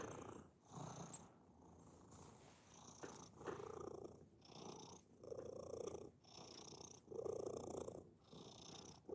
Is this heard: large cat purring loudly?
yes